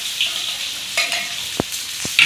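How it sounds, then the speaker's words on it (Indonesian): Chili, shallots and sliced ginger sauté together for shrimp sambal, a soft close sizzle with a couple of brief scrapes and knocks from stirring, no voices. "Kita lagi menumis ini."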